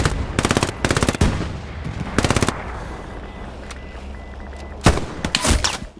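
Automatic gunfire in the World War II shooter Hell Let Loose, loud close bursts of rapid shots separated by pauses, with a final flurry near the end over a low battlefield rumble.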